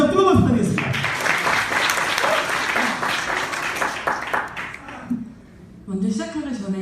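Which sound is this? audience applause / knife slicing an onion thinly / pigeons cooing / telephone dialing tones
audience applause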